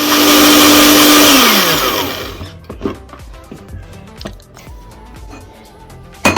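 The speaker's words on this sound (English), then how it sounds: "we don't want the pancake mixture to be lumpy, so that is why we are blending it" A kitchen blender whirs loudly and steadily as it purées apple pancake batter with milk, then winds down and stops, leaving quieter clinks and handling sounds afterward.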